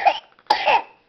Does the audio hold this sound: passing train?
no